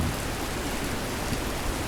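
Heavy rain pours steadily in a Philippine neighborhood on a May morning, a dense, even hiss with no breaks and no voices.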